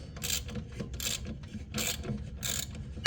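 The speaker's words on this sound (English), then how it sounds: "Take my wrench and loosen up your bolt." A ratchet wrench loosens the PTO clutch pulley bolt, clicking in four short, close rasping bursts spaced evenly about three-quarters of a second apart, with no speech.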